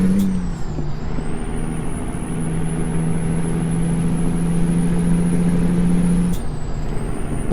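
A truck in American Truck Simulator idles with a steady low engine drone, bracketed by two sharp hissing air brake releases near the start and again near the end.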